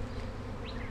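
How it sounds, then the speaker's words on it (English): A honeybee swarm settling into a tree gives off a dense, steady buzzing drone of countless wings, close and even, with no voices. "we have just encountered a swarm"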